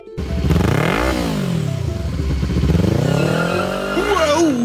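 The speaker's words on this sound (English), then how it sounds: "So go ahead and start up that motorbike." A motorbike starts and rides around inside a Moto-Danger Ball at a circus show, the engine rising and falling in loud continuous revs that climb to a high whine near the end.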